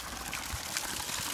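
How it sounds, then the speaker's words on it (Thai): Water gushes at full bore from the pipe of a 750-watt solar-powered pump fed by three 340-watt mono panels. It makes a steady, close pouring splash with no talk. "อันนี้น้ำไหลเต็มท่อ"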